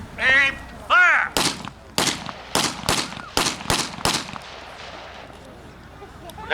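M1911 pistols fired by a First Special Service Force reenactment line at an outdoor weapons demonstration in Didsbury, Alberta, a loud volley of about seven sharp echoing shots in irregular succession, preceded by shouted commands.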